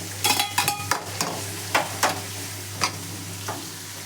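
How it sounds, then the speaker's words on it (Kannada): Chopped onion, green chili and curry leaves fry in a pan, a steady sizzle broken by a string of sharp scraping stirs, close and fairly loud, with no talking. "ಈಗ ಸ್ವಲ್ಪ ಎಲ್ಲ ಫ್ರೈ ಮಾಡ್ಕೊಳ್ಳೋಣ"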